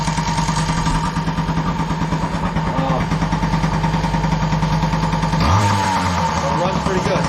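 A Yamaha BW80 dirt bike engine runs steadily at a close, loud idle, its tone dipping and shifting near the end, with no one speaking over it.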